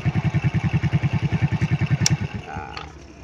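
A Rusi 110 scooter engine failing to start: a fast, regular chugging turnover of about ten thumps a second for two and a half seconds, close and fairly loud, then it dies away into faint rattles and quiet.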